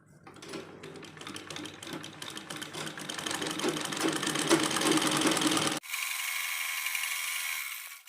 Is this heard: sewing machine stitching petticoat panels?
yes